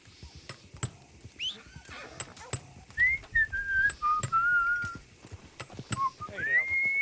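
A video game character named Diego, out farming in a ranch roleplay game, whistles loudly in a long, wavering melodic run, with horse whinnies, clip-clopping hooves and sharp clicking knocks around it and no talk.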